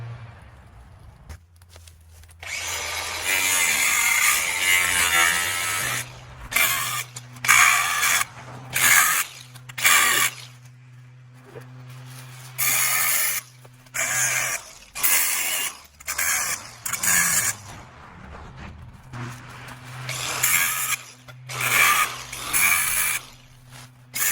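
An 18-volt cordless angle grinder running on a 20-volt battery adapter cuts shutter spikes out of a brick house wall, making loud, close, grinding bursts that start and stop repeatedly with short quiet gaps between them.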